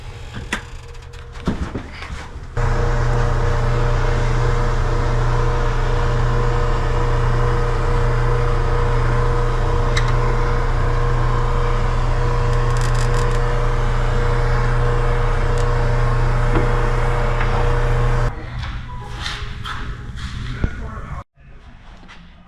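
A powder coating gun sprays powder onto sandblasted buggy parts, a loud, steady hissing rush that runs unbroken for about fifteen seconds, with quieter clatter before and after.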